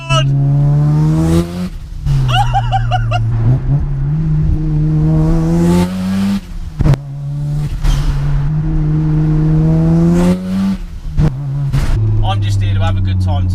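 A 410 bhp wide-arch Mazda RX7 FD with a big turbo and screamer pipe drives hard, loud rotary revs rising and falling repeatedly with sharp gear-change breaks, people talking excitedly over it.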